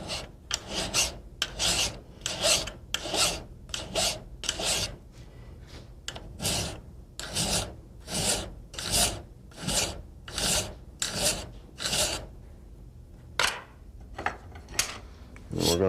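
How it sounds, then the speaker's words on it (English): Coarse pillar file working the flats of a 1911 pistol slide apron, giving a steady series of rasping metal strokes, about twenty in a regular back-and-forth rhythm, close and clear with brief pauses. "It's a little coarser pillar file, and we're going to work these flats on both sides of the slide apron."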